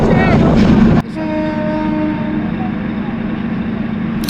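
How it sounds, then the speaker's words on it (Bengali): A moving train at night, heard from its roof: a loud, constant rumble and wind roar with faint tonal whines, steady from start to finish. "আমরা এখন ট্রেনের ছাদে, এই শীতের রাতে আমরা যাচ্ছি ট্রেনের ছাদে।"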